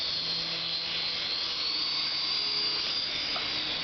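A Syma S3.5G RC helicopter in flight gives off a steady, high-pitched electric motor whine with a faint rotor buzz, constant and fairly close throughout.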